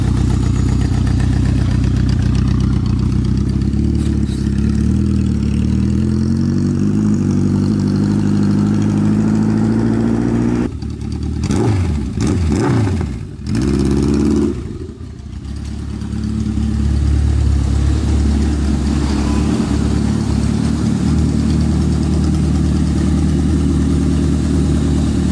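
A 1981 Yamaha XS1100 Special motorcycle engine idles loud and close in a steady, even rumble, cut by a few sharp blips and dips near the middle before settling back to a smooth idle.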